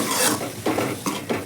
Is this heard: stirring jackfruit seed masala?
yes